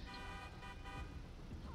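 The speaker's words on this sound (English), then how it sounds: "Why is she honking?" A car horn honks repeatedly in GTA 5, a video game street scene stopped at a red light, sounding as steady harmonic toots over low engine and traffic rumble for the whole short stretch.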